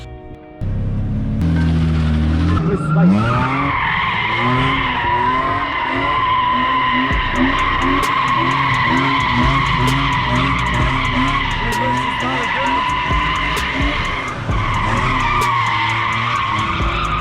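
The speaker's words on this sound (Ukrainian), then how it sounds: "Юра вже набагато краще дрифтує, ніж до того." A BMW E36 with an M50B25 engine drifts with a loud, sustained tire squeal over a roaring engine that rises and falls in pitch, close by and continuous.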